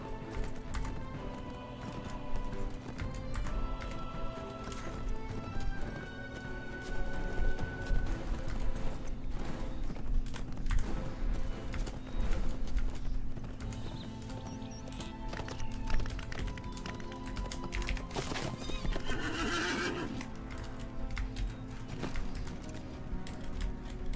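A horse mount in the Lord of the Rings Online video game, in the Riders of Rohan setting, trots along with steady, soft clip-clop hoofbeats under game music and effects for the whole stretch.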